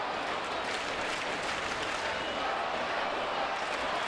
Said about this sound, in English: Crowd getting a little noisier here at Fenway right now with the Red Sox threatening.